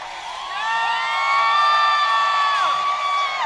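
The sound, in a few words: hockey crowd cheering loudly as Svechnikov passes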